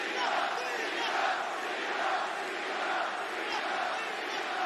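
A large wrestling arena crowd roars and cheers steadily during a John Cena promo, a dense sustained wash of voices swelling slightly in waves with no clear speech.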